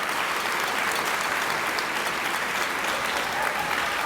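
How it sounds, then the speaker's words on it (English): Audience applause fills a school end-of-year awards assembly at a junior high, a steady wash of clapping from many hands with no voices over it, moderately distant. "So again, give them a round of applause."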